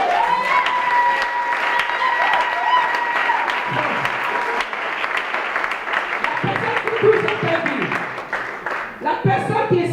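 An audience at a church seminar in Libreville, Gabon bursts into sustained applause, dense steady clapping with scattered cheers, while a voice over amplification carries on beneath and continues as the clapping tails off near the end.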